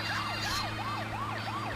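A rapid wailing police siren in the GTA 2 video game sweeps up and down in quick repeated cycles, loud and continuous over a low engine rumble during a chase.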